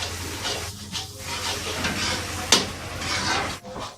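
Water poured into a pan of frying Russian kebab with boiled carrot, beans and chicken, producing a close, steady sizzle and hiss with stirring scrapes and a sharp clack midway.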